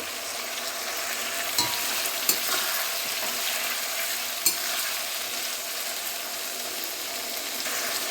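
Sliced tomatoes fry steadily in a pan with a constant broadband sizzle, broken by a few sharp clicks of a utensil stirring against the pan; no voices.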